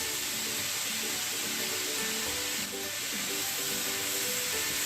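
Soft, steady sizzling of onion and celery frying in a pan, a faint continuous hiss with no talking.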